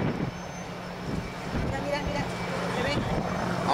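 A T-6 trainer aircraft engine at an airshow drones steadily at a distance, a broad rumbling roar with crowd and wind noise mixed in.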